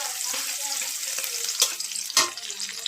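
Chopped onion frying in oil in a home village kitchen, a bright close sizzle with two sharper crackling bursts and light stirring clatter.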